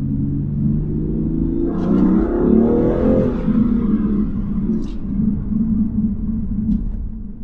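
BMW M2 Competition engine revving up under hard acceleration, a deep rising growl that peaks and then settles into a steady rumble, heard from inside the car without talk.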